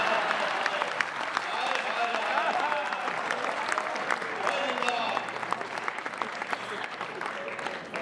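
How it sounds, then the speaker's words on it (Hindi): Dense, sustained applause from the audience at a Hindi comedy poetry show fills the whole stretch, steady and loud with many overlapping claps. "जंग के लिए तालियां थोड़ी कम है,"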